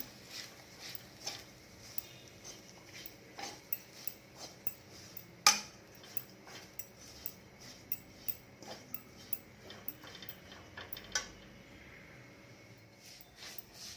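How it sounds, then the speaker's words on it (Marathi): Grated coconut being dry-roasted in a pan, a regular series of light scraping clicks from a spatula against the pan, quiet and close with a faint background hiss. "आणि आता आपण खोबरं भाजून घेऊया"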